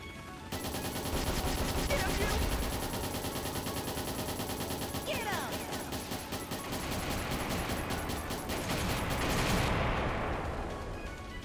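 Continuous rapid gunfire in a video game as enemies and incoming rockets are shot down, a dense, steady machine-gun stream with whooshing swoops over a loud, busy game soundtrack lasting over ten seconds.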